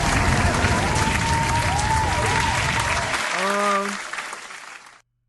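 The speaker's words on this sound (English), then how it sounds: "Round of applause to him." A crowd's applause, dense and steady, rises and holds for about three seconds before cutting off, followed by a brief tonal musical flourish that fades out.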